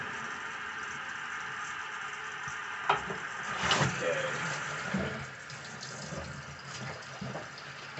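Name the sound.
water rinsing rust off weight plates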